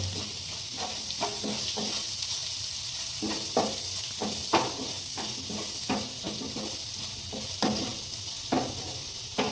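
Turmeric, garam masala and a pinch of pepper get stirred in a sizzling pan for Kerala-style masala dosa filling, with a steady hiss and frequent quick spatula scrapes and taps in an irregular rhythm.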